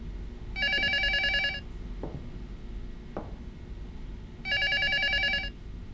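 Telephone ringing in the horror game Prophecy, two loud bursts of an electronic bell ring several seconds apart, with faint footsteps or knocks between them and no talking.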